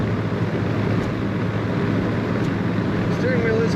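Steady broadband wind rush inside a moving 1966 Chevrolet El Camino Custom, a constant roar with low road rumble throughout, with no speech over it.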